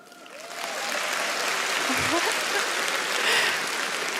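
Audience applause at a stand-up comedy show, swelling quickly within the first second into a full, steady clapping from the crowd, with a brief voice heard in the middle.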